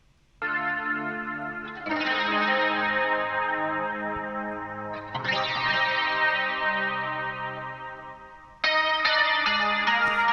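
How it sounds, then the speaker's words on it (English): Layered strummed guitars from an 80s synth pop or new wave track ring out in sustained, effect-laden chords with chorus and echo, each new strum entering sharply and decaying slowly, with no voices. "We had these sort of strummy sounds right here."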